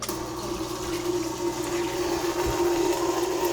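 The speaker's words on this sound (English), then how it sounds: "Before we send water from this brand new hose into the fridge, let's send it into this pot." Water runs from a brand new refrigerator supply hose into a pot, a steady strong flow with a pump-like tonal hum throughout.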